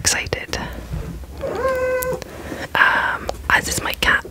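A pet cat gives a short, rising meow at close range, with soft whispering heard before and after it.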